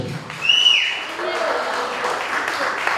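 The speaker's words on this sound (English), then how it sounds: "big round of applause for Al for making it happen" A crowd at a rally in Freeport, Texas breaks into steady applause that holds for the whole stretch, under a short voice at the start.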